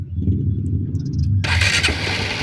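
A Honda XR 150 motorcycle, freshly overhauled, cranks with a rapid low chugging from the starter, then catches about halfway through and its engine bursts into a loud, rough, close-up running roar.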